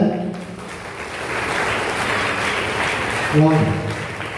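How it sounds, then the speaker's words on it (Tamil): Parishioners at a New Year Mass burst into dense, steady clapping that fills the church for several seconds, with a voice briefly heard at the start and again near the end. "கைதட்டுங்க"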